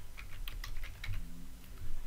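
Keystrokes on a computer keyboard while entering a form name in a C# programming session: a quick, irregular run of light clicks, close and fairly quiet, with no talking.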